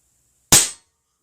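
A single sharp air pistol shot from a Crosman 2240 firing PDG pellets, rested on a sandbag, loud and close with a quick decay and silence on either side.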